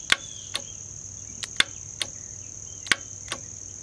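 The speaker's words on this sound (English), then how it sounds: "you're going to hear that solenoid click." A leak detection pump solenoid on a Ram 1500 gives several sharp, isolated clicks at uneven intervals, close and distinct over a faint, steady high-pitched whine.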